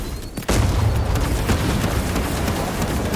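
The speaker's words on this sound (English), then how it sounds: "I'm simply gonna ambush him with a shock nade." A shock grenade in Space Marine 2 goes off with an abrupt, loud blast after a brief quiet moment, followed by a dense, sustained roaring rumble that stays strong throughout.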